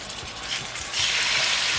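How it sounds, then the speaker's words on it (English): Country-style pork ribs searing in a hot pan, a continuous bright sizzle that swells louder partway through, close up with faint clatter and no talk. "And you see how we've got sizzle?"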